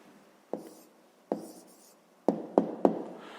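A pen writes an answer by hand on a fifth-grade math exercise, with a few short scratchy strokes and taps spaced apart, close and quiet with no talking.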